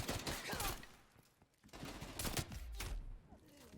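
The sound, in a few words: sniper gunfire in the video game Call of Duty Vanguard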